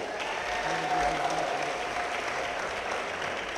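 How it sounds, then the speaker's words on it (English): Steady crowd applause fills a hometown welcome celebration for an Olympic bobsled athlete, even and continuous, heard from within the room. "Let's give them another big round of applause."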